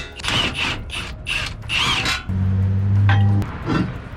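A ratchet works on large brake caliper bolts of a Nismo 370Z, giving a few quick bursts of clicking up close, followed by a steady mechanical hum.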